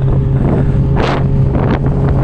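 Wind buffeting the microphone on a Suzuki GSX-R 750 motorcycle ride, a loud continuous roar with gusty rumbling surges.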